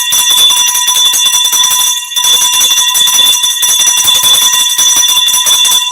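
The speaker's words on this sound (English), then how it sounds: "Brand new bell, folks. We break it in this evening." A brand new boxing ring bell rings loudly and continuously, a sustained metallic clanging with one short break, close and dominant with no talk.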